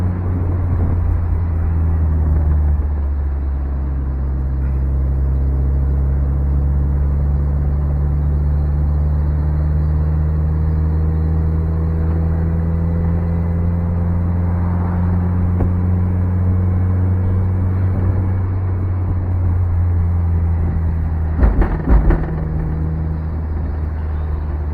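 Mazda Miata convertible with the top down cruising a mountain road, a steady low engine drone and road rumble throughout with wind noise, shifting pitch slightly, and a brief clatter near the end.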